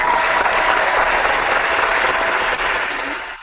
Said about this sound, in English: Somebody's clapping.